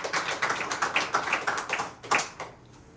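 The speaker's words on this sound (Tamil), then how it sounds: "கைத்தட்டி ஆண்டவரை மகிமைப்படுத்துவோம்." A church congregation claps its hands in praise at a Pentecost service, producing a quick, regular run of sharp claps that stops abruptly near the end.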